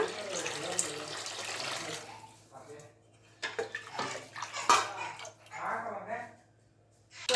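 Water pours in a steady stream into a pot of buttermilk rasam for a few seconds, then stops. A person talks afterward amid light clinks.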